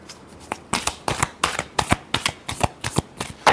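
Tarot cards being shuffled close up in a quick, regular rhythm of crisp riffling bursts, about a dozen in a row, with no speech.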